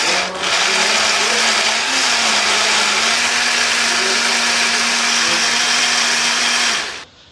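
A kitchen blender grinds chili, shallot, garlic, kencur, dried shrimp and water into a spice paste, a loud steady whirring drone that runs unbroken for about seven seconds and then cuts off.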